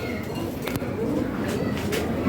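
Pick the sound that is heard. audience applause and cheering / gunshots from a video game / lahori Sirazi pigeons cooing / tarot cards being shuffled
lahori Sirazi pigeons cooing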